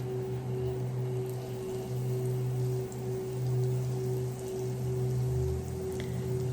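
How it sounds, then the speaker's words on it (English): Minced garlic sizzles in melted butter in a pan, a steady soft crackling hiss with a low hum underneath, continuous and close. "we're going to add in our minced garlic and let it saute"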